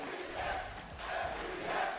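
Crowd at a Valorant esports match in an arena, VCT Masters Copenhagen 2022, a distant roar of cheering that swells and holds for a couple of seconds, fairly quiet and with no one talking.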